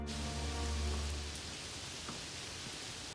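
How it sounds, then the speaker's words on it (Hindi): Light rain falling on a farm field makes a soft, steady hiss over fading background music, continuous for a few seconds before stopping. "थोड़ी बारिश भी हो जाती है"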